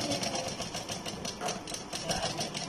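A household sewing machine stitches steadily in a room during a power cut, its rapid mechanical clatter running continuously and fairly loud, with a faint voice now and then in the background.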